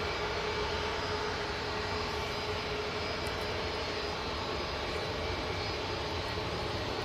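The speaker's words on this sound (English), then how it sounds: "And this Ryanair's on the spooling up now." A Ryanair jet airliner spools up its engines at Manchester Airport, giving a steady, loud broadband roar that holds constant for several seconds with no talk over it.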